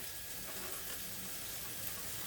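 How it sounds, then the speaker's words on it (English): Beef meatballs fry in a pan with onions, giving a steady, even sizzle that stays fairly soft and constant throughout with no talking. "They're frying lovely away with the onions"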